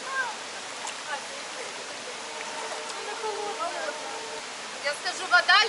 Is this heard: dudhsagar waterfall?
yes